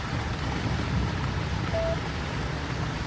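Rain pours steadily onto a boat caught in a storm, making a dense, even hiss that stays loud and unbroken throughout.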